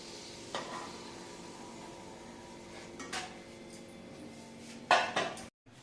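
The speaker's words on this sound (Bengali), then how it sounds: "তখন তোমাদেরকে দেখালাম আমি লুচি ভাজছি" Luchi fry in a pan of hot oil with a steady sizzle and a faint hum, marked by a few utensil clicks and a louder scrape near the end.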